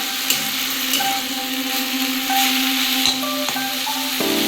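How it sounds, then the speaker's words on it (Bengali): Drumstick leaves frying in a pan as leftover water cooks off, a steady loud sizzle with scattered stirring scrapes and a few clicks, no voices. "এটাকে জলটা পুরো শুকিয়ে নিয়ে ভাজতে হবে"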